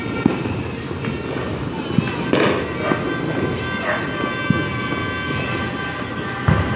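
Sharp popping bursts of New Year firecrackers sound at scattered intervals in light drizzle, some near and some distant, over a continuous rumbling background.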